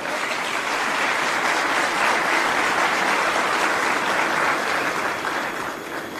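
A studio or event audience gives loud, sustained applause, a thick steady wash of clapping that holds evenly for several seconds with no talking over it.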